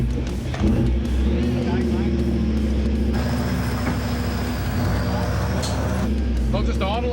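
Toyota Hilux 4x4 engine idling as it crawls up a rough track in Arnhem Land, a steady low rumble with mechanical clunks and creaks throughout while people talk over it.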